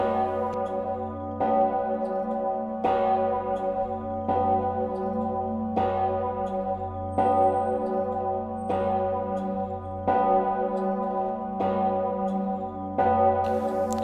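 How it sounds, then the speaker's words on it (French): A church bell tolls steadily for a baptism, wedding or funeral, about one deep ring every one and a half seconds, its rich humming overtones sustained between strokes. "on sonne aussi des cloches, par exemple baptême, mariage ou obsèques"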